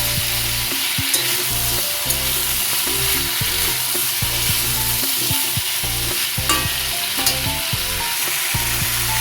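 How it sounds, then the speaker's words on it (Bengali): Grated ginger hits hot oil alongside turmeric in a frying pan for a vegetarian drumstick-stem chorchori, giving a loud, continuous sizzle with stirring scrapes throughout. "গ্রেট করা আদা দিয়ে দিচ্ছি।"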